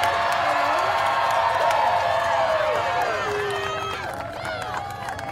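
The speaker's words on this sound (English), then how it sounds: "From Prairie View A&M, round of applause for Audrey Garcia." Crowd at a college softball tournament game, Grambling State versus Prairie View A&M, cheering, whooping and applauding for a player, a steady loud roar of voices and claps that fades slightly toward the end.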